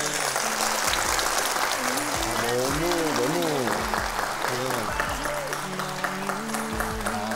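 A TV talk show audience claps continuously, warm sustained applause filling the space while a voice speaks over it in Korean with rising, sing-song intonation.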